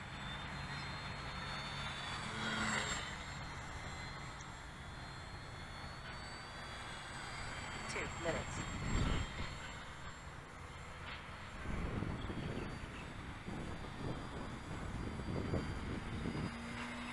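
A Durafly Bravado 1000mm 3D/sport RC model airplane flies outdoors in light wind, its electric motor a steady whining drone that swells and fades as it maneuvers at a distance, with occasional gusts of wind.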